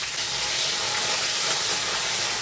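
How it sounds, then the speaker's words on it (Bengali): Cauliflower hits hot oil and ghee with a loud, dense, continuous sizzling hiss that stays steady and close throughout. "সবার প্রথমে তেলে দিচ্ছি ফুলকপিটা।"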